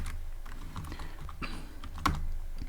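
Quick keystrokes on a computer keyboard as a short line of Python code is typed, an irregular run of close, crisp taps with one louder key press near the end and no voices.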